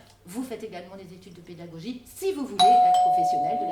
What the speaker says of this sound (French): C'est la sonnette à l'entrée.